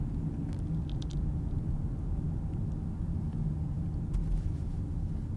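A car cruises through New London, Connecticut, heard from inside as a steady low engine and road rumble with constant tire noise and a few faint clicks, no talking.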